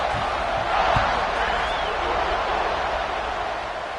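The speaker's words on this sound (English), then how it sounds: "You think this crowd's going to get loud when their defense comes on the field?" A broad roar of a Madden video game stadium crowd rises and swells, with scattered shouts and cheers, a thud near the start, and faint voices mixed in.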